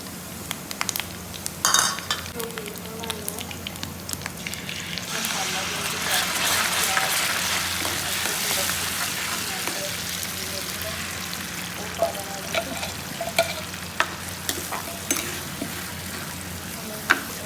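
Cumin and kabuli chickpeas fry in a pan, a continuous sizzle swelling in the middle with scraping stirs and occasional clinks from the utensil, close by, with a voice speaking over it at times.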